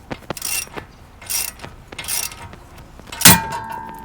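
Hand-tool ball joint press on a Subaru suspension, metallic clicking and ratcheting strokes with a loud sharp crack near the end as the threaded rod pops free, close up with no talk.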